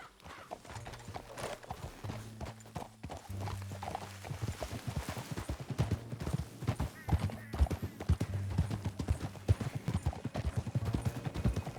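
Horse hooves gallop in Red Dead Redemption 2 as a fast, loud, rhythmic clip-clop that builds and keeps driving, mixed with game music and a voice talking over it.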